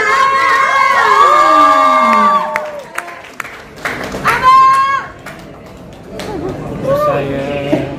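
A crowd at a press conference introducing the cast of a TV series cheers and shouts with high excited voices, mixed with some applause and an announcer's voice, rising and falling in bursts over eight seconds.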